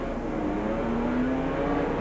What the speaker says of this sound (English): He goes up to the gears on the restart.